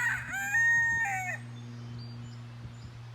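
A rooster crows once, loud and close, in a garden coop with chickens nearby, the drawn-out call fading after about a second and a half into a steady low hum with faint background clucks.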